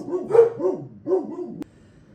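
Close dog barks in a quick series of three or four loud, rounded woofs with slight whining inflection, ending abruptly with a sharp click, no talking.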